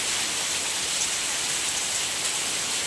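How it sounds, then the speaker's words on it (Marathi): Heavy rain falls during a windy storm at a rural home, a dense, loud, unbroken hiss of downpour on the ground with no talk. "तेवढा बघा पाऊस पडतोय,"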